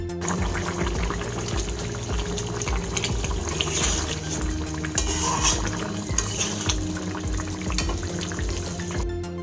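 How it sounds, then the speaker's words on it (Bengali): Fried katla fish going into a simmering curry of potato and ridge gourd, giving a loud, close, continuous bubbling and sizzling wash with a few soft clinks of pan and utensil. "এখন আমি ভেজে রাখা কাতলা মাছগুলো এর"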